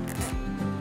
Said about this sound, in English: We're gonna run our zip tie through